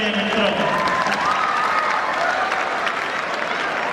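A crowd applauding at an annual function, dense steady clapping that fills the space and fades slightly toward the end.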